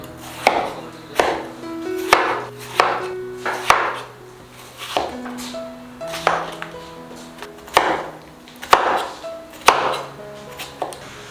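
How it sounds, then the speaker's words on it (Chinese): A knife chops peeled wax gourd (winter melon) into small pieces on a board, about a dozen sharp, evenly spaced thuds in a steady rhythm, close and clear with no talk. "将冬瓜切成小块。"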